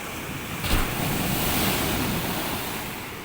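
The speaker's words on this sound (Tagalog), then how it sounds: "Naingayan tayo sa waves." Cold ocean surf washes in as a loud, continuous roar with a swell of breaking water, mixed with gusty wind buffeting the microphone; no voices are heard.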